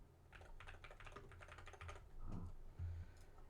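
Quick clattering keystrokes on a computer keyboard while a game project's assets are set up, a dense run of taps followed by a few heavier, louder presses near the end, with no talking.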